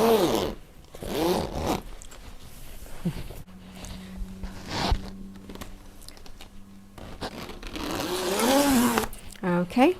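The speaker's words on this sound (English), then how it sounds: "Zip this up." A zipper is drawn along minky quilt backing in several long sweeps, near and fairly loud, with a pause midway filled by a steady low hum; someone talks over parts of it.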